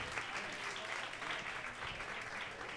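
Steady, full applause from a live-show audience for the DJ, a continuous crowd of clapping hands with faint voices beneath.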